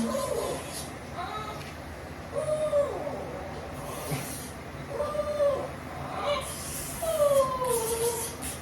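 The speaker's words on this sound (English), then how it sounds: "I'm sure you can hear Armani back there. He is just telling us all about it" A talkative senior dog lies down during a Christmas grooming session, letting out a series of whining, moaning calls. Several drawn-out vocalizations sit at a moderate distance over a quiet background.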